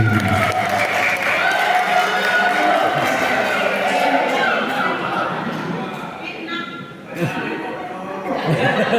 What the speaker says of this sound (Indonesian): Tepuk tangan untuk Pak Jamzuru